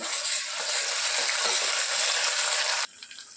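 Ginger garlic paste frying in a pan for mutton curry: a loud, steady hiss of hot oil sizzling up close for nearly three seconds, then cutting off abruptly to quiet with faint clinks.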